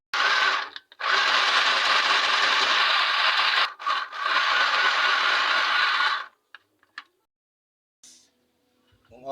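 A small homemade mini sewing machine being test-run, giving a loud, close, buzzing whir in two long bursts separated by a brief stop, followed by a few faint clicks and handling noises.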